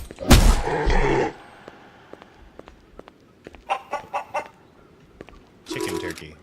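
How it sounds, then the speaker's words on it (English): Turkey gobbling in a video game: a loud gobble burst at the start, followed by quieter clucking, gobbling calls in a rapid cluster and another burst at the end, over light game ambience. "I was distracted by the turkey."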